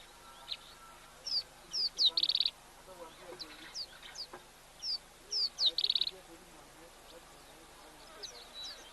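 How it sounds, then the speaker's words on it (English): Cape turtle doves, greyish ring-necked doves at a waterhole, call in repeated bursts of short high notes that come twice in a similar phrase, with faint background rustle and no talk. "A couple of Cape turtle doves there as well, those greyish birds with the rings on their necks."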